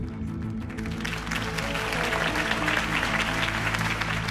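A video game crowd claps and cheers, the applause swelling after a second and holding steady and loud to the end.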